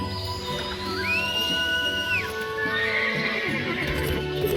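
A horse whinnies in the Moonlight Blade Online video game, a long rising and falling neigh near and loud over steady clip-clopping hooves and an ambient music bed.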